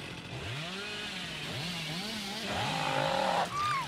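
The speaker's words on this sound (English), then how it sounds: "she knows I'm going for chainsaw." A chainsaw in the Dead by Daylight video game, its engine revving in repeated rising and falling surges, steady and fairly close, then a higher whining rev near the end, with no speech.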